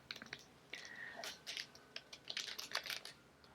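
Keystrokes on a computer keyboard tapping out a project name in irregular quick bursts, close and fairly quiet, with no talking.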